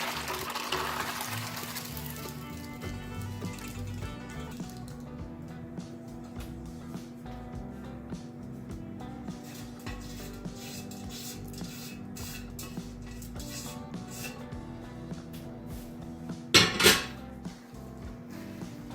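Homemade bird suet mixture with black sunflower seeds being scraped and spooned into a tray, a run of close clinks, taps and scrapes of utensil against dish over a faint steady hum, with a louder clatter near the end.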